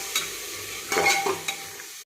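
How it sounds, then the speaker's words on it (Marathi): Chickpeas with onion and tomato are sautéed in a pan, with a steady sizzle and scraping stirs from a spatula. A few louder strokes stand out near the middle and end, and no one speaks. "याला चांगलं परतून घेऊया।"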